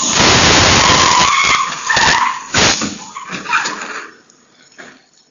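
A car driven by a drunk driver skids loudly in the street in front of a house at night. The long tire squeal fades into the engine and rough road noise as the car pulls away.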